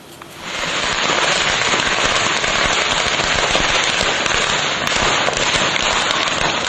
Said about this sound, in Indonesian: ribuan petasan meledak saat dibawa menggunakan motor yang terekam kamera warga